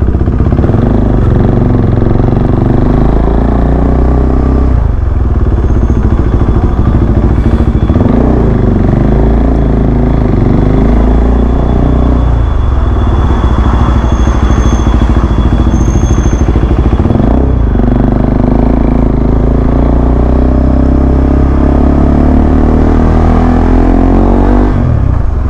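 A Honda ADV 160 scooter engine runs close and loud for a long stretch, a steady rumbling drone with repeated rises and falls in revs and some mechanical clatter, with no talk over it.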